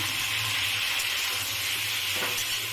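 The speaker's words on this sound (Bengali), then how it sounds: "এবার আমি বাকি সবজিগুলোকে কড়াইতে দিয়ে একসাথে সব ভেজে নেব" Mixed shukto vegetables fry and get stirred in a kadai, giving a steady, close, even sizzle with a soft hiss throughout and no voices.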